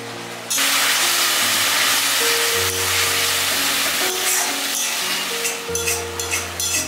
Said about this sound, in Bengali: এখানে মশলাটা ভালো করে কষিয়ে নিই, কষিয়ে নেওয়ার পর মটনটা দিয়ে দেবে